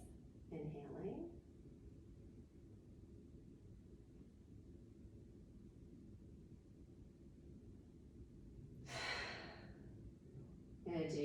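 A person doing a deep breathing exercise: a soft breath near the start, then a long quiet stretch, then a loud, close exhale sigh, and another breath starting at the very end.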